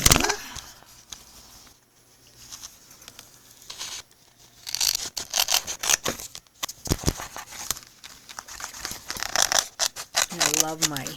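Close-up snipping and papery rustling from ergonomic scissors cutting through scrapbook paper, in irregular bursts with brief pauses between cuts.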